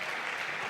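Church congregation applauding during a Sunday worship service, a brief steady wash of clapping heard alone without talk.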